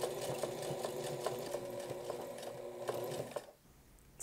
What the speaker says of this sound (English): A nice little zigzag stitch around this collar as well, just to hold everything in place.